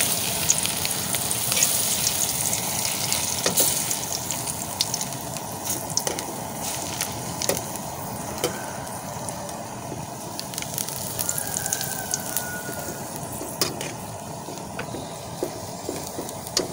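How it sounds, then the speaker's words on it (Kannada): Curry leaves fry in hot oil for masala peanuts, producing a steady, dense sizzle and crackle that runs close and unbroken throughout, with occasional sharper pops. "ನಾವಿನ್ನು ಕೊನೆಯಲ್ಲಿ ಇದಕ್ಕೆ ಬೇವು ಸೊಪ್ಪನ್ನು ಫ್ರೈ ಮಾಡಿ ಹಾಕಿ ಅಲ್ವಾ"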